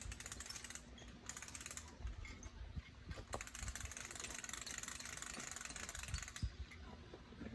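Crank handle of a shade umbrella being wound up over a young avocado tree outdoors, giving faint, steady mechanical ratcheting clicks with a few sharper ticks and some outdoor background noise.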